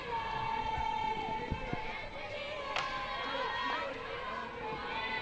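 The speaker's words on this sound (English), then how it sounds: "Crowd's starting to pick up the noise even more now." Spectators at a women's hockey match between Loughborough and Birmingham make a steady murmuring crowd noise with scattered shouts and a few thuds, moderately distant, with talk mixed in.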